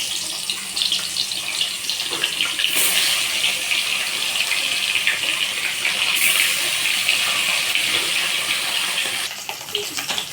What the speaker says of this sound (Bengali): তো আমার তেলটা গরম হয়ে গিয়েছে, এবার আমি মাছগুলো এক এক করে ছেড়ে দেবো।